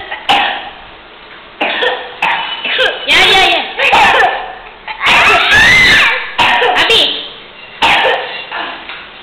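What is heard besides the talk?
child coughing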